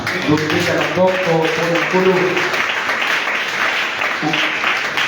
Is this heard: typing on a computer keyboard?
no